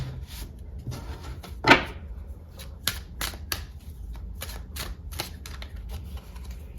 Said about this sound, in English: let me give these a quick shuffle